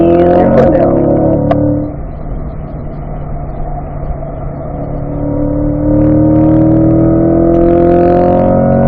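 A C8 Corvette accelerates loudly on the Spring Mountain race track, its engine note climbing steadily under power. The engine is close and sustained, with a brief lull before the revs rise again.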